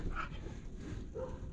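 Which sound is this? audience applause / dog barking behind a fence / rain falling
dog barking behind a fence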